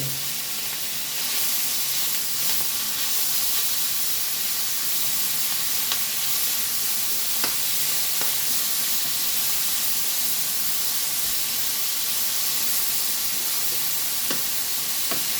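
Strips of sliced pork bacon sizzle and hiss steadily in a hot pan, a continuous close, bright frying crackle with occasional louder pops and no talking.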